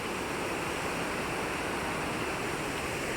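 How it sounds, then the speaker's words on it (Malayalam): A waterfall along a rough ten-kilometre route, its dense, steady roar of falling water continuous and loud throughout, with no voices over it. "അത്യാവശ്യം നല്ലൊരു വെള്ളച്ചാട്ടം അടിപൊളി എവിടെ നോക്കിയാലും വെള്ളച്ചാട്ടം"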